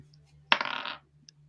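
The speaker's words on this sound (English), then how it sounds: "Oh, I threw my dice." Dice are thrown and land: a single sharp clatter followed by a short rattling tumble lasting about half a second, close and fairly quiet.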